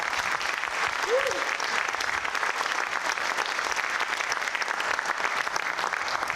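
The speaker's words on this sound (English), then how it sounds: "So if you give them a huge round of applause." Dense, continuous audience applause at a high school Hall of Fame induction ceremony, steady and moderately loud, with a brief voice or whistle rising early and chatter mixed underneath.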